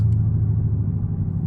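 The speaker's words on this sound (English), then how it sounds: "when you change the driving modes, it actually downshifts" Chevrolet Camaro ZL1 with a supercharged engine, heard from inside as it downshifts on a drive-mode change: a loud, steady low rumble that holds constant without a sharp rev spike.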